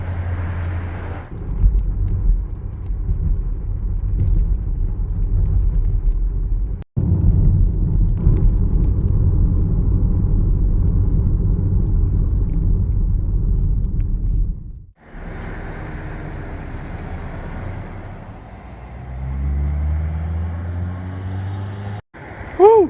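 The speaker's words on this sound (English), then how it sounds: "that was a long drive from our last point to here" A car driving along roads through Albuquerque neighborhoods, giving a steady loud low rumble of engine and tire noise from inside the cabin, broken by a couple of brief cuts, with the tone shifting near the end.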